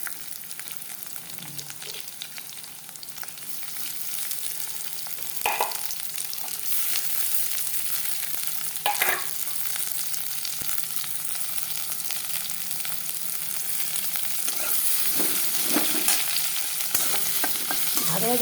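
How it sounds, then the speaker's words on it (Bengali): Chopped onions sizzle in hot oil in a pan and are stirred now and then with a spatula scraping the bottom, a steady close-up hiss that runs on without any talking. "এখন আমি পেঁয়াজ কুচিটা দিয়ে দিব"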